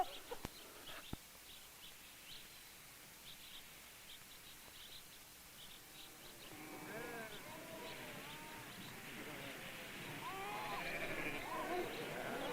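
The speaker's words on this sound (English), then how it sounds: "Sheep are grazed by the Navajo on land largely unchanged in centuries." Navajo sheep graze on open land and bleat repeatedly in the middle distance, the calls overlapping and growing denser in the second half. A faint steady hiss runs underneath throughout.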